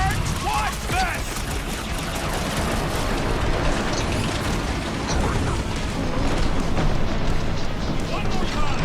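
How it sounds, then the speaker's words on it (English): Fireworks-style explosions in the Guardians of the Galaxy video game, a dense, continuous barrage of booms and crackles over loud battle noise, lasting the whole stretch. "Wanna see some fireworks? Watch this!"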